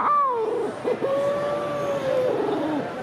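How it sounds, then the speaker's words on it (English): A single owl gives drawn-out, wavering hoots that swell and fade, heard fairly clearly at a live outdoor expo with a faint room murmur behind. "That sounds like an owl."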